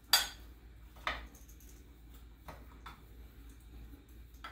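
A spoon mixes mini chocolate chips into cookie batter in a cup, giving a few sharp clinks and taps against the cup spaced about a second apart, with soft scraping between them in a quiet room.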